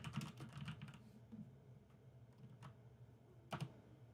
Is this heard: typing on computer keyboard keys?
yes